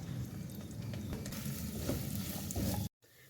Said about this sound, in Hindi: मसालों को कीमे के साथ अच्छी तरह भून लेंगे